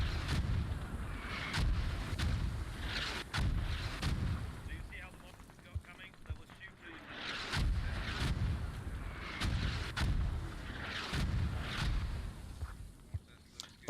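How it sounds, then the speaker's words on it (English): Mortar strikes exploding in the military game Arma 3, a series of repeated distant booms and blasts landing in irregular succession, with faint voice chatter underneath. "Good mortar strikes. Very good, accurate mortar strikes."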